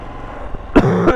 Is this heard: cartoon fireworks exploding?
no